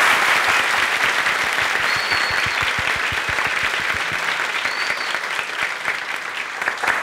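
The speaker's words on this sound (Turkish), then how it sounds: "alkışlarla başlıyor" A theatre audience at Duru Tiyatro in Kadıköy, Istanbul, applauds loudly to open a live stage show, dense continuous clapping that fades slightly toward the end.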